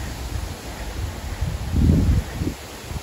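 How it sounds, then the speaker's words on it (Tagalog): Gusty autumn wind in Finland rustles leaves in a low, rushing wash, swelling into a stronger gust near the end before easing off. "Sobrang hangin."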